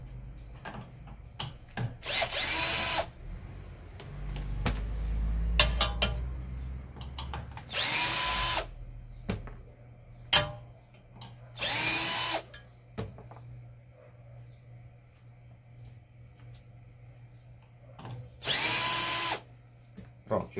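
Power tool removing four screws from a rear cover: several short, loud whirring bursts separated by quiet gaps over a low steady hum.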